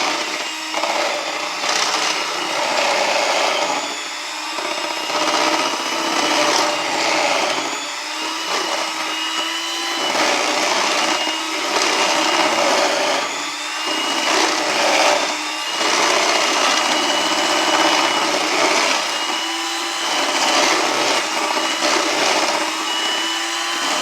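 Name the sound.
electric mixer mixing sour cream pound cake batter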